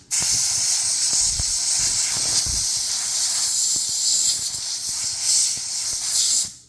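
A loud, sustained hiss of compressed air blasting from a nozzle onto a Buck 307 knife during restoration, lasting several seconds with a few small knocks underneath.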